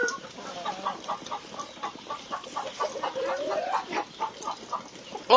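Black Australorp chicks peep in rapid, high, overlapping chirps on a simple chicken farm, steady and moderately close with no talk.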